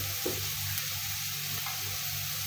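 Chopped onion fries in hot coconut oil for prawn fried rice, giving a steady, close, even sizzle with a faint low hum underneath and no talking.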